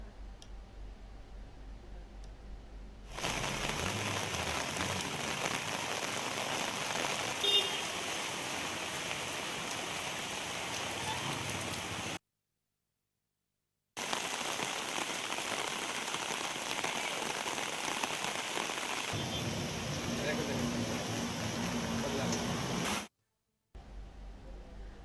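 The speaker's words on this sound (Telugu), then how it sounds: "ఇప్పటికీ అక్కడ భారీ వర్షం కురుస్తున్నట్టుగా తెలుస్తుంది" Heavy rain pours down in Tirupati, a steady dense hiss of drops drumming on surfaces that runs for long stretches, broken by two short silent gaps, with no voices.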